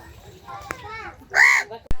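A white crow at Bangladesh National Zoo in Dhaka caws loudly once, a harsh rasping call, with children's chatter and background voices around it and a sharp knock at the end.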